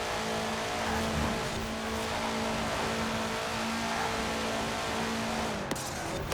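A Subaru race car in Forza Horizon 4 drives at sustained high revs, its engine roaring loud and steady with a strong tonal whine, ending with a brief sharp shift near the close.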